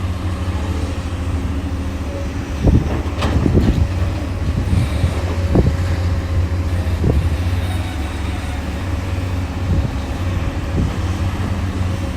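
Wind buffets an outdoor microphone beside two Komatsu PC200 excavators, a steady low roar with a few louder gusts and thumps, and no talking.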